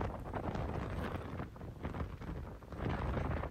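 Strong wind gusts buffet the microphone on an open golf course, a loud, steady roaring rush that swells and dips without letting up, with no voices.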